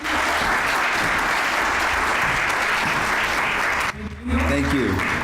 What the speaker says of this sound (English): Let's give a big round of applause to Mr. Fioretti